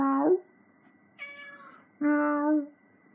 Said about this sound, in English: It's a meow.